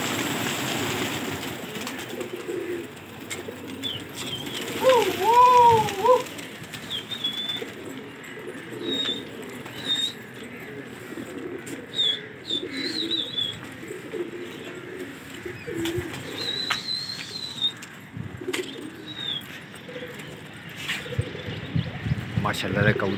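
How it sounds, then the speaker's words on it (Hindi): Pigeons coo in a pigeon loft in Lucknow, a few soft rolling calls close by, with occasional wing flaps and chirps while people talk over them. "माशाल्लाह कबूतर देखे"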